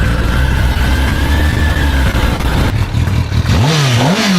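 A motorcycle fitted with a pure racing exhaust in place of the stock one revs hard, a loud, raspy, close engine roar that drops and then rises again in a quick throttle blip at the end.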